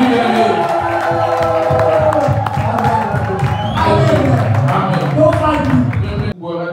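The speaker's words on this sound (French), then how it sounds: "Acclamez pour Jésus." A church congregation cheers, claps and whoops in praise of Jesus, a loud, sustained crowd roar with voices and clapping layered together before it cuts off abruptly near the end.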